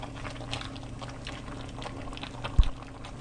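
A pot of Jamaican-style stew peas with oxtail, stew beef and chicken foot bubbles steadily on the stove, a continuous low simmering burble close by with one brief louder knock near the end.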